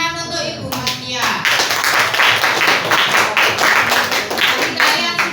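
A class of students bursts into lively applause for their teacher, dense rapid clapping from many hands filling the room after a few voices at the start, continuing strongly to the end.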